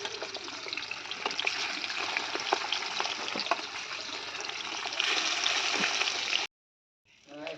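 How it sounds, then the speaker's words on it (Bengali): Fish sizzling as it fries in a pan, a steady crackling hiss that swells louder near the end, then cuts off abruptly before briefly resuming. "মাছটা এখন ভাজা হবে"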